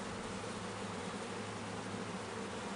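Honey bees at an open Langstroth hive make a steady, faint buzzing drone that stays continuous and even, with no voices over it.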